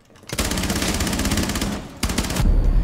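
A P90 submachine gun fires in Rainbow Six Siege, loud rapid automatic bursts in a fast steady rhythm, a brief pause, then another short burst followed by a heavy low rumble.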